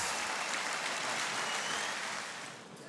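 The arena crowd at a WBA title boxing bout in Hamburg applauds Irish boxer Dennis Hogan after the final round, with a dense, roaring wash of clapping and cheering that fades slightly at the end.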